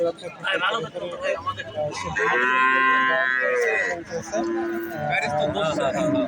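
A dairy cow at the Alamdanga livestock market lows loudly in a long, drawn-out moo, close by, while people talk over and around it amid general market bustle.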